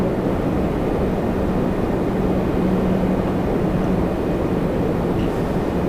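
An Emirates airliner in Courier Express livery at Toronto Pearson gives off a steady, fairly loud engine rumble that stays even throughout, with no voices.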